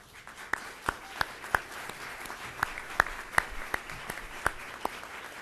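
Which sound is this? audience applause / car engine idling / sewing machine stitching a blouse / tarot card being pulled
audience applause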